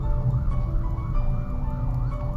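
An ambulance siren wails with a steady rising and falling tone over dense low street-traffic rumble, continuous and fairly close throughout.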